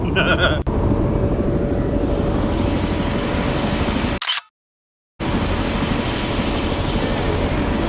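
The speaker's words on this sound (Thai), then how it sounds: "การนั่งเฮลิคอปเตอร์ท่องเที่ยว ก็ ตื่นเต้นและสนุกไปอีกแบบนะครับทุกคน" Steady, loud rotor and engine roar of a sightseeing helicopter in flight over New Zealand, broken by a brief cut to silence before the drone resumes.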